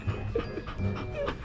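A hungry dog pants quickly up close, with short whimpers and whines mixed into the breathing.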